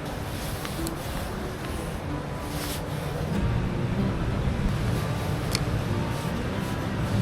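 Wind gusting across a canal in winter, a steady close rumble buffeting the microphone, swelling somewhat louder partway through, with a few faint clicks on top.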